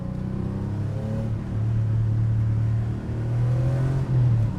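Porsche 964 with a cable throttle pulling hard above 5,000 RPM, a loud, steady engine drone whose pitch climbs in stages through the revs, heard close from inside the car with no talking.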